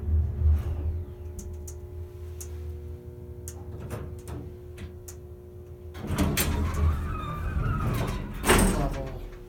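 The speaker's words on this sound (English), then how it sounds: "Now listen to the motor shut off." A vintage Haughton traction elevator in an old apartment building hums with a low motor drone, then clunks, clicks and rumbles as the motor shuts off and the car settles, with some faint background sound.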